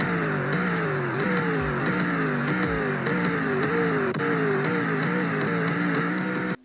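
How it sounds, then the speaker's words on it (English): A V8 car's engine is revved repeatedly and loudly up close, rising and falling in a rhythmic series of throttle blips over a deep, continuous rumble. "Hear the revs."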